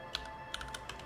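Sparse keystrokes on an English computer keyboard, roughly four or five quiet clicks spaced unevenly, close but faint, with no voices.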